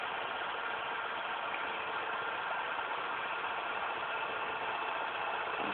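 A homemade Newman motor spins steadily, giving off a continuous whirring hum with a broad hiss, close and even from start to finish with no pauses.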